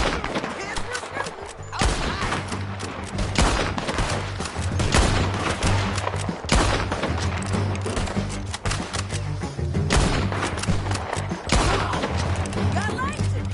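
Rapid bursts of gunfire and thudding impacts from a Red Dead Redemption 2 shootout, loud and dense throughout, with scattered volleys and heavy hits layered over one another and a voice talking beneath.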